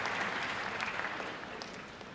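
Short burst of crowd applause for medical school graduates at a commencement, a fairly faint, even wash of many hands clapping that fades slightly toward the end.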